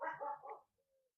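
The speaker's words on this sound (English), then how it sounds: "If you heard that, that's my dog" A dog gives a short burst of barking, two or three quick close yaps over about half a second, followed by a faint trailing whine and then quiet.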